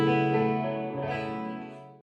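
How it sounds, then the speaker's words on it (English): A warm chorus effect from an Eventide H9 MAX pedal colours a sustained, rich chord that shimmers slightly and slowly fades over about two seconds. "So here we've got a warm chorus, which kind of sounds like this."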